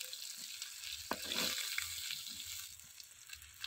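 Salted fish frying in oil, a soft steady sizzle with a few brief scraping touches, close and alone.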